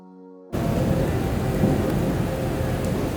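Heavy rain pours steadily at a hotel wedding venue in Delhi, a loud, dense wash with deep rumbling thunder that starts abruptly after a brief steady hum and continues unbroken.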